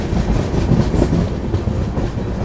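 The Pune Amravati express runs near Ankai station with a loud, steady rumble of rolling wheels and carriages, rhythmic clatter pulsing underneath, close by and continuous without any talk.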